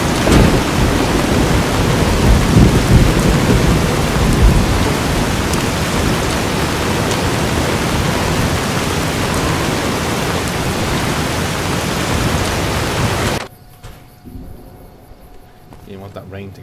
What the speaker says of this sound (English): You want that rain to go away.